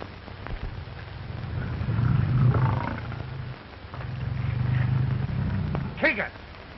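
Low lion roars in the African bush, two long rumbling bursts close by, with a voice speaking over part of it.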